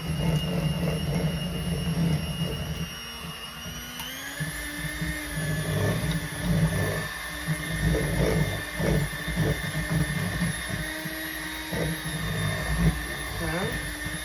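An electric hand mixer whipping homemade body butter, its motor whine climbing in pitch as the speed is stepped up, steady and close with a brief dip and rise partway through and a voice talking over it.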